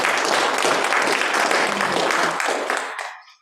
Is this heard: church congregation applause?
yes